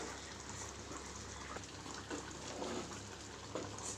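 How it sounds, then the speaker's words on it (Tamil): Soya chilli manchurian gravy bubbling in a pan at a low, steady simmer, soft popping and gurgling bursts scattered over a faint hiss, quiet and close with no talking. "இப்போ கிரேவி நல்லா கொதிச்சிட்டு இருக்கு."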